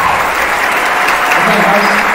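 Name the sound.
audience applause for band students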